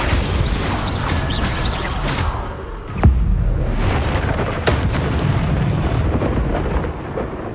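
Confringo fire spell explosions in Hogwarts Legacy combat, a sharp boom near the three-second mark and another burst later, over a busy, clattering battle backdrop.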